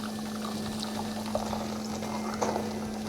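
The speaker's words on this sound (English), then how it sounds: "we're going to take our custard mixture and a strainer. And we're just going to pour that carefully" Custard mixture for crème caramel is poured through a strainer into a pan, a soft steady trickle of liquid under a constant low electrical hum, quiet and close with a couple of faint clinks.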